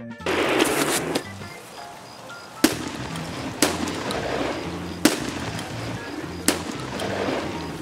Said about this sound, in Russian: Как-то непонятно дробовик работает.